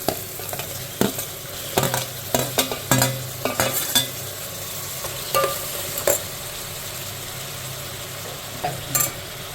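Spices and tomato pieces for a dum biryani masala sizzle in a pan. A utensil stirs with sharp scrapes and clacks against the pan in uneven bursts, close up, with no one talking.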